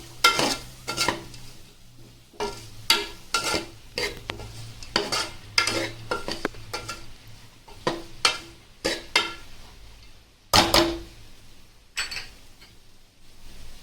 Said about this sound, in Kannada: ಸ್ವಲ್ಪ ಅರಿಶಿಣ ಪುಡಿ, ಸ್ವಲ್ಪ ಟೊಮೆಟೊಸ್, ಇದನ್ನ ಮಿಕ್ಸ್ ಮಾಡ್ತೀನಿ